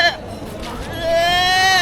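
Goats bleating at a busy livestock market, with a drawn-out wavering bleat rising clearly near the end over a background of crowd chatter and people talking.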